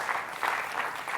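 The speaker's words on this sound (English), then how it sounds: "Let's give her a round of applause again for that keynote." An audience at a tech conference breaks into applause for a keynote speaker, a short burst of crowd clapping that swells and dips in quick waves, close and fairly loud.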